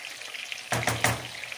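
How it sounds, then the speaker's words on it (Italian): Eggplant filling with tomato sauce sizzles and fries steadily in a pan, with a few louder stirring scrapes and bursts of crackle midway, close by and without talk. "E ora lasciamo cuocere questo sughetto, questo ripieno, con il coperchio."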